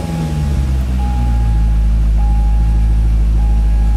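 A Chevrolet Corvette with ABS and traction control faults runs loud and steady close by, a deep constant engine drone with a thin whine riding above it.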